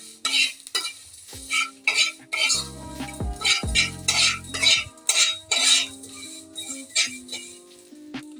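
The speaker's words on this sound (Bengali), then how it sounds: "এটা আমি হালকা করে ভেজে নিচ্ছি" Two cardamom pods being lightly dry-fried and stirred in a kadai on a gas stove for a mixed fruit chutney, a close run of metallic scrapes, clinks and stirring strokes in uneven bursts, with no talk.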